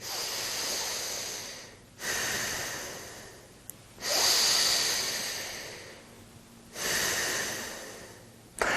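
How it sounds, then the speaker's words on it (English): Someone takes deep breaths through one nostril while the other is blocked, giving loud, close, airy rushes that alternate between long inhales and exhales, with brief silent gaps in between. "just block one nostril and take half a dozen deep breaths"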